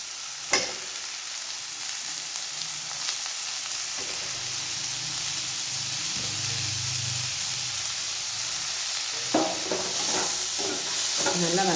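Chopped ripe tomatoes sauté in a pan for kuruma, giving a steady sizzling fry with stirring scrapes throughout, close and moderately loud, with a few sharper clatters near the end and no talking.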